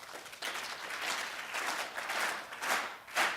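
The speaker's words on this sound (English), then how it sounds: "can we just start clapping and see if you can all clap in unison?" An audience of over a hundred people in a lecture room claps together, a steady dense patter that swells in waves, with no voices over it.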